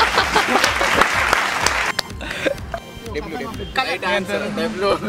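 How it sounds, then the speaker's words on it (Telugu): A group claps loudly and rhythmically for a correct answer in a common-sense quiz game, the burst of applause fading after about two seconds as voices take over. "W right answer claps"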